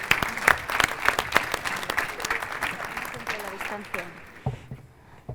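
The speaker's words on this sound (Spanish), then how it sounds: "un aplauso para él" An audience at a conference talk applauds a prize winner, brisk clapping from a modest crowd that tapers off near the end while a presenter keeps speaking over it.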